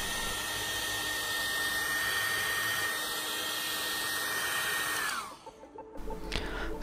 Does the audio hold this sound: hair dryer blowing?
yes